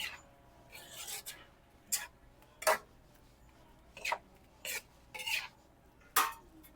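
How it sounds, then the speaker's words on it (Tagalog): A spoon scrapes and clinks in a pan while salt is stirred into fried alamang with monggo and vegetables, in short irregular rasping strokes with quiet gaps between. "Haluin natin ang asin."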